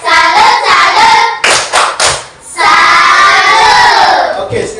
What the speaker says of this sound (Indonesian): Kita tepuk tangan untuk Bastian bersama teman-teman